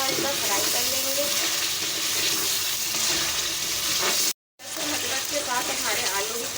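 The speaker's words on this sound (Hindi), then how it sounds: "अब आलू को भी हम इसमें हल्का हल्का फ्राई कर लेंगे।" Potatoes fry lightly in hot oil, with a loud, steady sizzle that runs throughout and stops for a brief moment partway through.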